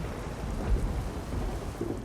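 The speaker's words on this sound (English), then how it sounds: "The thunder rolls!" Thunder rolls in a low, continuous rumble with rain pattering on surfaces, loud and close. No voices are heard.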